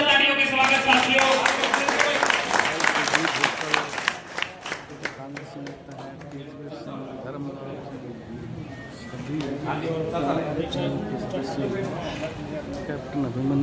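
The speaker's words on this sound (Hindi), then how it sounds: "तालियों के स्वागत साथियों।" Clapping from a village meeting crowd in Rajthal welcoming speakers, loud dense applause at first that thins into scattered claps and fades under crowd murmur and talk.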